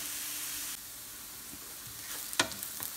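Onions fry for a mutton curry with a steady, close hiss of sizzling oil. The hiss drops slightly partway through, and a few stirring scrapes and clinks follow near the end.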